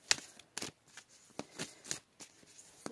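Tarot cards are shuffled by hand in a quiet room, a series of crisp, papery riffles and slaps that come in uneven bursts about every half second.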